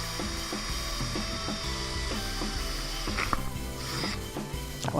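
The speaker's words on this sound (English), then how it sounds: "Just going to drill the holes for mounting." Power drill boring mounting holes through the sheet-metal body of a 1973 Chevy Suburban square body, heard as a steady close mechanical whir with clicking, ratcheting bursts and a few sharp catches toward the end.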